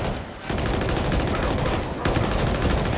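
Rapid automatic gunfire from a Skitarii's gun in the Darktide video game, a loud, dense stream of shots broken by two brief pauses, close and continuous.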